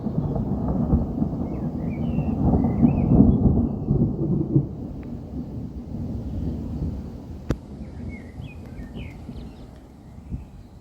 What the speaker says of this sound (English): Oh, we just had a flash of lightning there. So it's going to be a thunderclap in a minute.